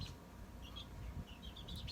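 Newly hatched baby chicks peep faintly in the background with short, high chirps scattered over a low, quiet room hum.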